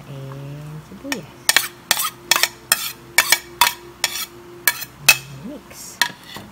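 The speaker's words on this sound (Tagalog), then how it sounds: "By mixing bawang, luya, and sibuyas" A utensil stirs garlic, ginger and onion in a bowl for a Filipino raw fish salad (kilawin malasugi), with a steady run of sharp, close clinks against the bowl and a few faint tonal chirps in the background.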